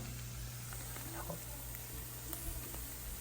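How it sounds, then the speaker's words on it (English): Corned beef hash fries in a pan turned up to high heat, giving a steady crackling sizzle with a few small pops and faint clinks, close and continuous throughout. "Let it really fry up."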